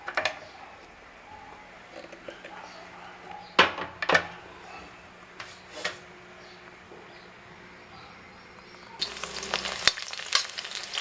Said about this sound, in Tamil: கொதிச்ச உடனே நம்ம தாளிச்சிக்கலாம்.